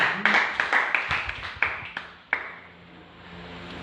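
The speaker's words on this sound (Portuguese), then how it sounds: "Dê uma salva de palmas bem forte" A congregation claps for Jesus in a church service, a handful of sharp separate claps spread unevenly over a few seconds before the sound drops into a quieter room tone.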